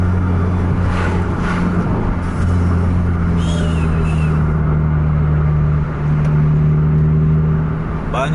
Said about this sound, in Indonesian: Padat truk emang luar biasa malam ini.